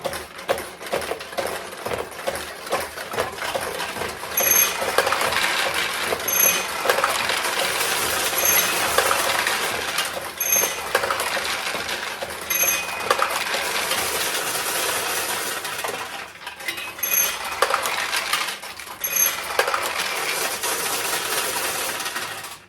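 A restored 1972 Nishijin Model A vintage pachinko machine runs steel balls, giving a constant metallic rattle and clatter with small repeated chime-like pings, close and busy throughout.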